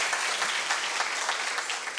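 Steady audience applause from a live talk-show crowd, dense and continuous clapping throughout, with no talking over it.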